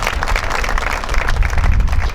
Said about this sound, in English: Ryan Schmidt, are you here today? No, give him a round of applause though.